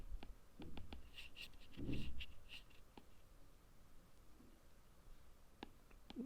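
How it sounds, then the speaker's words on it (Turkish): Pen writing on paper while a logic puzzle table is worked out, quiet scratchy strokes and light taps in short bursts, close and soft with no talk. "Bir tane Cemal yazıyorum."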